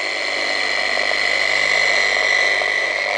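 A Meguiar's dual action polisher runs on car paint with light pressure, giving a steady, close, high-pitched electric whine with no pauses.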